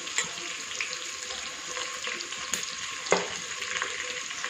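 Onions and vegetables frying together in a pan for samba rava vegetable upma, a steady broadband sizzle with occasional stirring clatter and one sharper knock near the end.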